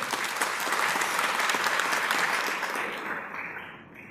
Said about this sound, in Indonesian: Tepuk tangan untuk Kang Randy Saputra.